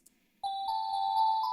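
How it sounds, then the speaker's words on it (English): Bell-like synth tone from a MiniFreak synthesizer run through a Microcosm effects unit, a sustained ringing note with shimmering upper partials and soft repeated attacks, clear and alone. "Something like the bell sounds"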